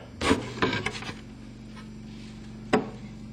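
The back panel being pulled off a Leslie speaker cabinet: a few close wooden scrapes and knocks as the panel shifts, a pause with faint low hum, then one more sharp knock.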